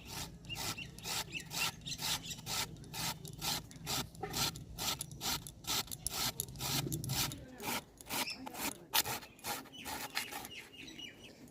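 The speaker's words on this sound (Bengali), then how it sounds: "এরপর আমি গাজরটাকে ঘষে নেব।" A carrot is rubbed against a grater in close, quiet, rhythmic strokes, a steady series of scratchy rasps of about two per second with a faint low hum at the start.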